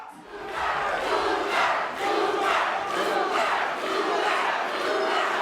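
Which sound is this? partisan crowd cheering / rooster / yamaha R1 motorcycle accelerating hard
partisan crowd cheering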